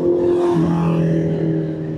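A motorcycle passes close by on the road near Crisanto M. de los Reyes: a loud, steady engine drone whose pitch drops partway through as it goes past, with no talk over it.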